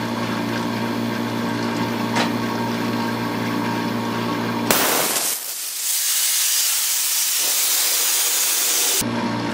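Homemade .25 caliber BB gun fired on 250 psi shop air: a steady mechanical hum breaks into a sudden loud burst, then a forceful hissing rush of air that runs for several seconds before cutting off abruptly.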